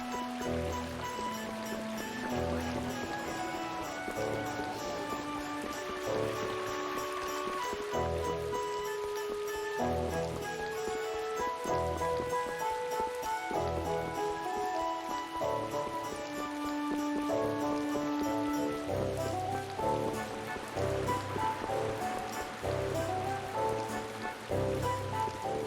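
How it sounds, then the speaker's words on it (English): Rain falls steadily in the video game Tales of Vesperia, a continuous wash of patter that lasts throughout under melodic background music. "Oh, it's raining."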